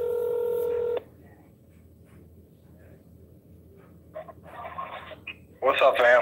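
A phone call is placed, opening with a steady dial tone that cuts off after a second, followed by faint buzzy ringing, and then a voice comes on the line.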